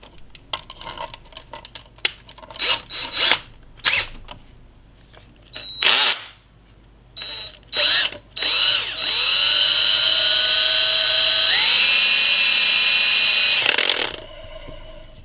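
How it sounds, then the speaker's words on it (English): A power drill revs in several short bursts, then runs steadily for a few seconds with a rising whine as sandpaper grinds against the edge of a spinning Technics 1210 pulley wheel. "spinning it on a drill or something and putting a bit of sandpaper along the edge"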